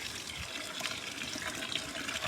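Water pours into a planting hole dug in a steep garden slope to soak it, giving a soft continuous splashing and gurgling fill that stays faint and steady throughout.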